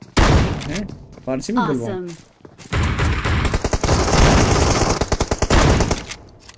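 Shotgun and rapid gunfire rattle through a PUBG Mobile match, loud bursts of shots dominating the second half after a player talks excitedly over the opening.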